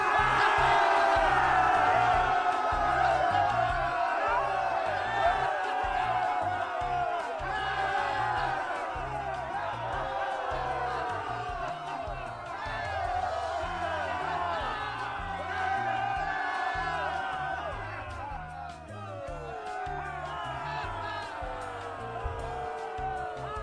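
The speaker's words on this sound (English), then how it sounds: "Man, is that an awesome crowd or what?" A large crowd cheering and whooping, a dense, sustained roar of voices with shouts rising and falling over the whole stretch and no break.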